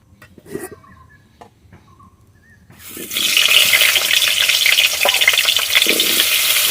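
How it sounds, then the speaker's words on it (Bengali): Potatoes hit hot oil for chicken kosha: a few light kitchen clinks in a quiet room, then a sudden loud, steady sizzle of frying that continues to the end. "তেল দিচ্ছি আলুগুলো ভেজে নেব"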